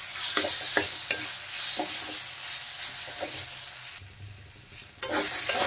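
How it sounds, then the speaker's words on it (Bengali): Mushrooms frying in masala spice paste in a pan, with a steady low sizzle broken by several distinct scraping stirs of a spatula against the pan. "এখন ভেজে রাখা মাশরুমগুলো দিয়ে দিলাম। দিয়ে আরেকটু মশলার সাথে আমি কষিয়ে নেব।"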